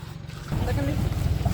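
A tractor engine idles with a low, pulsing, rhythmic rumble out in the countryside around Bhadradri Kothagudem, steady and fairly close, with voices talking over it.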